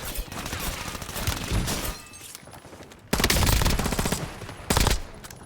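Bursts of automatic gunfire from the video game Warzone, loud and close, with a sustained volley, a brief lull, then more heavy firing and a short final burst; no talking.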